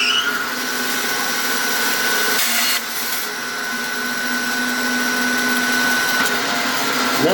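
A saw cuts a pen blank into pieces, a steady loud motor whine with abrasive hiss, close by, with a brief dip partway through before the cutting resumes.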